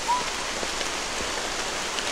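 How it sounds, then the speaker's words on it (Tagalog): Heavy rain pours down in a dense, constant hiss of drops striking surfaces nearby, with no voices over it. "Ulan na ulan talaga"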